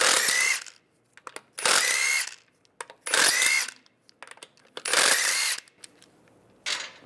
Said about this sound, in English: take all the lug bolts out